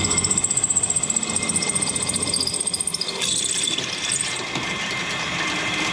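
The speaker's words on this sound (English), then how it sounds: "we're going to take it over to the pillar drill and whack some holes in it" Continuous mechanical whirring and grinding of a pillar drill boring holes through metal, with a steady rhythmic clatter and a high whine, close and loud throughout.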